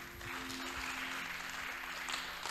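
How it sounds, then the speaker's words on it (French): A congregation at a French-speaking church service claps for the music team, a dense, steady patter of applause from a crowd indoors, moderately loud and sustained throughout. "Vous pouvez les applaudir."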